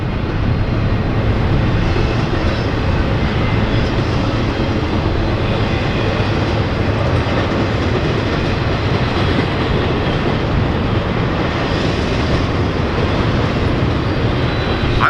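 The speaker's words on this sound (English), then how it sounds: "this train has started to gain speed again" A freight train rolls past at the Berea railfan site, gaining speed, with a loud, continuous rumble and rattle of cars and wheels that holds steady throughout.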